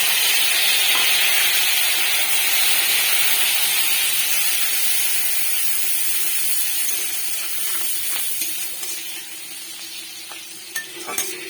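Nigella seeds and green chillies sizzle in hot oil with a loud, dense, continuous hiss close by that eases slightly over time, and a few sharp clicks and taps come near the end.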